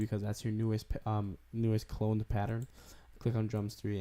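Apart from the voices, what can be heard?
No everyday noise stands out behind the speech.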